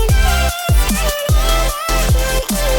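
Pre-drop section of an electronic track building into the drop, with pulsing synth chords chopped by rhythmic gaps and sliding bass hits repeating every half second or so, loud and without voices.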